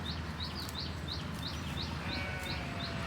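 Goats and sheep bleat over a constant outdoor rumble, with repeated short chirping calls and steady background noise throughout.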